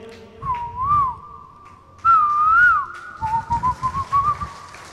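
A performer on stage at a cultural event imitates an Asian koel's call with a whistled voice: rising, looping phrases repeated several times, then a run of short pulsing notes, loud and close with no speech.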